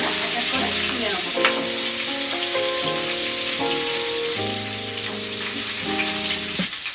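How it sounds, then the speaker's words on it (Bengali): Chicken pieces for a poppy seed chicken dish fry in hot oil, giving a steady, loud, close sizzle that continues throughout under background music. "মাংসটা ভেজে আমরা তুলে নিয়েছি"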